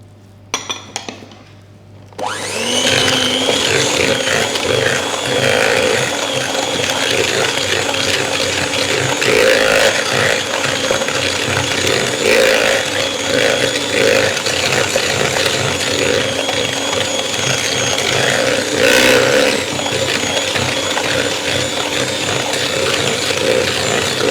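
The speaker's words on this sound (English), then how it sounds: "we're going to add the butter and the sugar in together and give those a mix." An electric mixer beats butter and sugar together for toffee popcorn cookie dough, a loud, close, continuous whirring drone with occasional clinks against the bowl, running for over twenty seconds.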